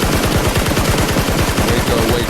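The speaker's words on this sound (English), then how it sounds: "What, gunshots?" Gunshot sound effects play as a rapid, continuous burst of loud automatic-style gunfire, each shot running into the next without a break.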